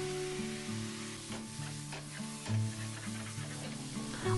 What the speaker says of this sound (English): I got the pan heated up. Threw in some olive oil. Let it get warm. And I just toss in all the things. I'm gonna let this saute for a little bit.